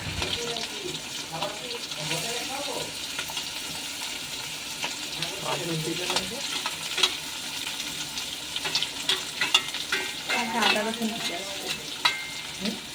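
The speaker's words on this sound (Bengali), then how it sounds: "যখন তোমরা ভেজিসগুলো দেবে গরম তেলে, একটু আঁচটা কমিয়ে নেবে" Vegetables fry in hot oil for a Bengali-style pasta, a steady sizzle broken by stirring scrapes and clinks of a utensil against the pan, close up with no talking.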